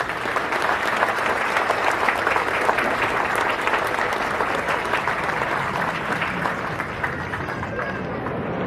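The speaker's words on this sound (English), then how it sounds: "Please join me in a round of applause for the families of Kilo Company." A large crowd at a Marine Corps recruit graduation for Kilo Company at MCRD San Diego applauds the Marines' families, a dense, steady roar of clapping that holds strong for the whole stretch and thins slightly near the end.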